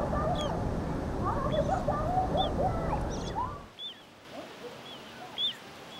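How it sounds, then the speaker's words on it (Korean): A mother bird calls her chicks with repeated short, plaintive chirps and quacking notes over a busy outdoor background, which drops away partway through and leaves a few clear calls alone. "어미새가 애절한 목소리로 새끼들을 부르는데요."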